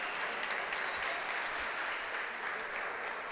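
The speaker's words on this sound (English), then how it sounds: "Getting a lot of encouragement here from the crowd." Spectators at a high school senior-night swim meet clap and cheer a finishing swimmer in a steady, dense patter of applause that sounds fairly distant and even throughout.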